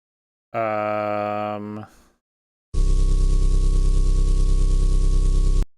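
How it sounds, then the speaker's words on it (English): An engine idle sound effect: a steady, loud, dense low rumble with a constant hum that starts abruptly and runs unbroken for about three seconds, after a short separate harmonic tonal sound. "That's an engine idle?"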